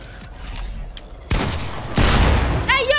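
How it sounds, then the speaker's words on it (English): Two loud shotgun blasts in Fortnite, about half a second apart, each a sharp boom with a rumbling tail, followed by a brief metallic reload clatter and chime. "What shotgun is that you're using?"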